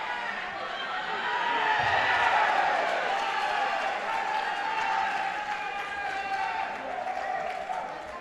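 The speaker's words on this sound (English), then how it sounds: "The noise is generated by this really supportive, quite knowledgeable crowd, obviously." A supportive, knowledgeable crowd at a veterans' world judo championship makes a steady, swelling roar of cheers and applause that fills the hall and holds for the whole stretch.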